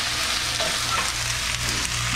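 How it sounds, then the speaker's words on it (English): Sliced peppers and onions frying in a pan as their liquid cooks off: a steady, close sizzle with a soft low hiss running throughout. "As all that liquid cooks off, the water cooks out of the vegetables, and they begin to soften."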